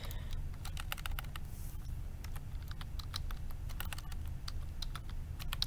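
Rapid typing on a computer keyboard, with a steady run of crisp key clicks at an uneven pace over a low background hum, close and clear for the whole stretch.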